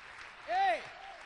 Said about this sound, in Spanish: Dale un fuerte aplauso a ese Dios poderoso